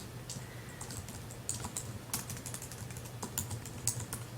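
Computer keyboard typing at a desk, a steady run of light clicks with a few louder key strikes over a faint low hum, close and alone without any talk.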